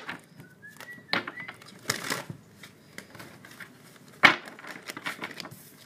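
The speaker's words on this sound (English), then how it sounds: "let's shuffle one more time" Tarot cards shuffled by hand during a reading, giving a few quick papery riffles and soft snapping bursts at irregular moments, close and fairly quiet.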